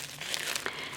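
Plastic bag crinkling as magnetic slime is worked inside it, a short burst of close, soft rustling and crackling with a few sharper crinkles, no voices.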